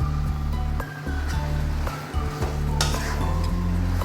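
Chopped pumpkin stirred into fried masala in a cooking pan for kaddu sabzi, loud continuous sizzling with scraping stirs and a few metallic knocks, close by, no speech.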